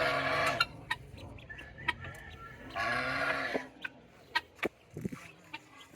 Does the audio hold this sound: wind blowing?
no